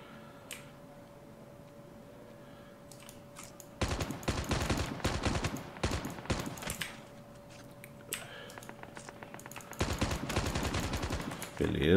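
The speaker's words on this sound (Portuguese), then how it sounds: "Tirou bastante tiro, mas valeu a pena." Gunfire in the mobile shooter game COD Mobile, with rapid automatic bursts in several loud clusters separated by quieter stretches, set over a faint steady game hum.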